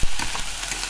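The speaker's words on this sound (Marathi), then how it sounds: "हळूहळू हलवायचं त्याला, उजवीकडून घेते आणि व्यवस्थित" Basmati rice is stirred slowly while it fries with sugar, giving a loud, continuous sizzle with soft scraping of the stirring close by.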